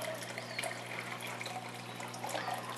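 Colloidal silver liquid is decanted into a larger container, giving a faint, continuous trickle and pour over a low steady hum, with no speech.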